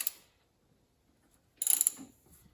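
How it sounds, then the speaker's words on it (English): A 1/2-inch drive ratchet loosens the spark plug on a Cub Cadet XT1 lawn tractor, giving a brief click at the start, then a close burst of rapid ratcheting clicks after a pause, fading into quieter clicks. "I'm using a 1/2-inch drive ratchet. We're going to take the spark plug out."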